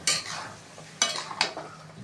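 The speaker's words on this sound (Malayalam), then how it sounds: "വെള്ളം ചേർത്ത് നന്നായി ഇളക്കുക" Chicken curry masala being stirred in a pan after water is added, heard as three scraping swishes of the spoon, close and moderately loud, with no talking.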